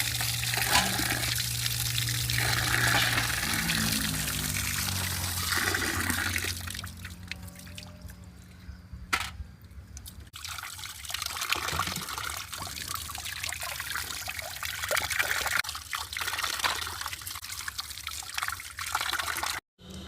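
Tap water runs in a steady, close trickle and pour while trevally fish are washed in a home kitchen, continuing with small splashes and shifts in flow and no talk.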